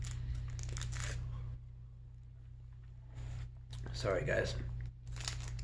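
Jolly Rancher candy wrappers crinkle and crumple in short bursts, loud and close, with a person talking between the rustles.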